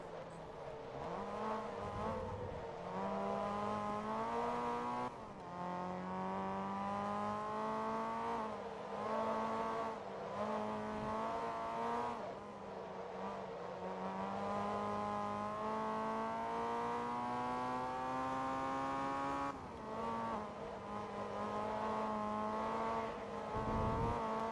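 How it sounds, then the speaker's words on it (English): A race car engine in the racing game Forza Motorsport 2 drones steadily and loud, climbing in pitch through repeated gear shifts, each shift causing a brief dip before the revs build again. No voices are heard. "Is this a VTEC engine?"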